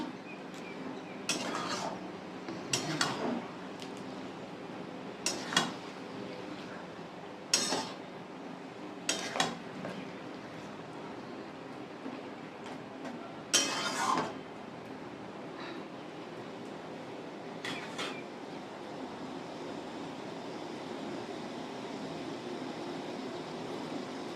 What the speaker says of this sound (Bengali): আমি এবার চিকেনটাকে কষিয়ে নেব বন্ধুরা মশলার সঙ্গে